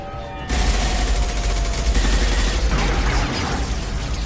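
Dense, sustained gunfire and booming impacts fill a Mass Effect 2 combat scene, starting abruptly after a brief quiet lead-in and continuing loud and unbroken with rumbling low end.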